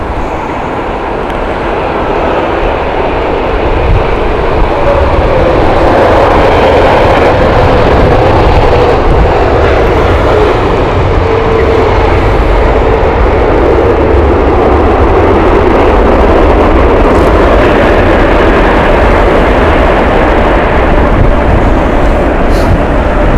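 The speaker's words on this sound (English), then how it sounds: "Victor Juliet Alpha Mike Airbus A350 1000." Airbus A350-1000 jet at Heathrow Airport, a loud sustained roar with deep rumble that swells and lingers for over twenty seconds, heard from a distance across the airfield.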